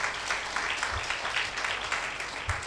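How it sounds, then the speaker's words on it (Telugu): A congregation at a Christian sermon bursts into loud, steady applause, a dense, continuous crackle of many hands clapping together that fills the whole stretch with no pauses. "గట్టిగా చప్పట్లు కొట్టండి."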